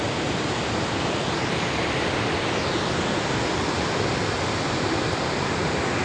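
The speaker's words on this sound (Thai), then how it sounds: "มาเที่ยวน้ำตกตาดเนาะโอ้น้ำตกตาดให้ปลานะคะ" Rushing water at Tat Waterfall in Thailand, a steady, dense roar of falling and splashing water that fills the whole clip at close range, with no voices.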